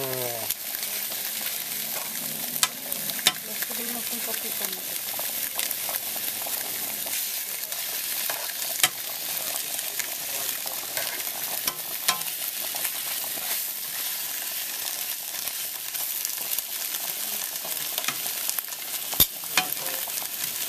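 Pork chops and onions fry in a pan for tacos, a constant close sizzle with occasional scrapes and clicks from stirring, running steadily without talk.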